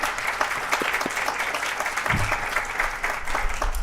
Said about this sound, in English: Let's give a round of applause to them as well.